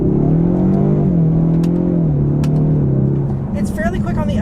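A 2024 Ford Mustang EcoBoost with the High Performance Package accelerates in first gear with manual shifting, its engine a loud, close droning whine that wavers and climbs for a few seconds. Someone talks over the engine.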